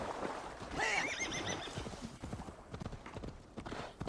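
Horse hooves clip-clop steadily while a horse whinnies loudly partway through, with game-like ambience behind, in Assassin's Creed Valhalla.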